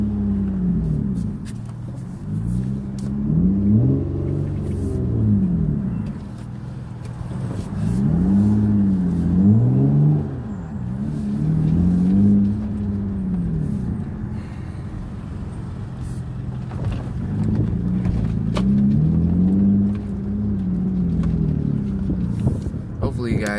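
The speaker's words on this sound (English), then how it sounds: "Hopefully you guys can hear the car." Car driving, heard from inside the cabin by an open window, with a low engine hum that rises and falls through gear changes beneath someone talking steadily throughout.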